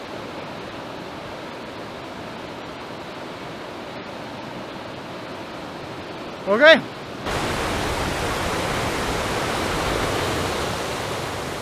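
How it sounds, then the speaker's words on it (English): A powerful river roars at a wilderness trail crossing, a constant broad rushing that grows louder partway through, with a brief spoken word. "The river was powerful."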